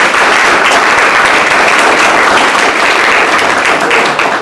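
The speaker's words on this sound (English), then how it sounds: "If you are a Paul Harris Fellow already, would you please stand up and let us clap for you?" Sustained, dense applause fills a Rotary club meeting hall as members stand to be recognized, a steady loud wash of many hands clapping with no break.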